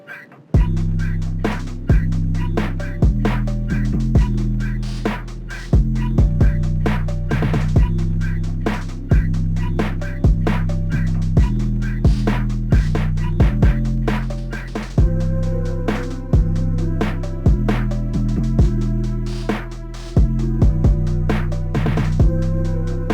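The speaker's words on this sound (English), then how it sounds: "So once I had that all together, our first of 3 beats sound like this." A hip-hop beat in an older style with a classic old school sound plays on its own: heavy looping bass and steady punchy drums in a repeating bar pattern.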